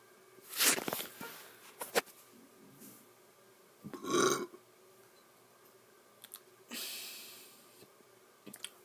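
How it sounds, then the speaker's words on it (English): A person burps loudly up close, with two main belches a few seconds apart and a longer, softer one later, amid breathing and small clicks. "I'm gonna say YouTube while burping"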